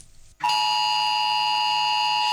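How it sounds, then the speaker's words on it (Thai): A loud, steady cell broadcast emergency alert test tone switches on abruptly after a brief moment of quiet and holds a harsh, unchanging pitch to the end. "นี่คือเสียงแจ้งเตือนที่เราใช้ทดสอบเตือนภัยผ่านเซลล์บรอดแคสต์"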